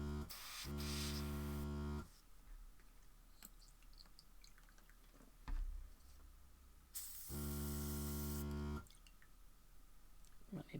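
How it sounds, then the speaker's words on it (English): An airbrush gives off a harsh, loud buzzing hum in two sustained bursts of about one to two seconds each, with a quieter background between them. "It's not good noise from the airbrush."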